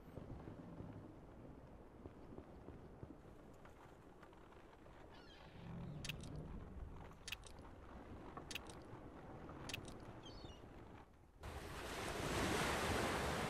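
Sea waves wash and surge continuously in the game Broken Ranks while wind blows across them. Several short honking bird calls sound partway through, and a louder wash of surf rises near the end.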